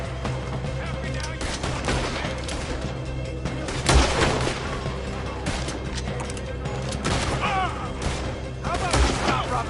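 Rapid gunfire cracks through a Red Dead Redemption 2 shootout, with dense, repeated shots and sharp louder blasts near four and nine seconds, mixed under ongoing talk.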